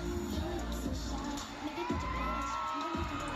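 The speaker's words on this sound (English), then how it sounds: "Did you hear the crowd?" A crowd of fans cheers and screams continuously at a live performance by a group at Ayala Malls Market, a dense, steady roar of shouting voices with bursts of whooping throughout.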